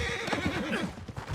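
Horse whinnying in the Western game Red Dead Redemption 2, a single wavering neigh at close range, followed by a few faint hoof sounds.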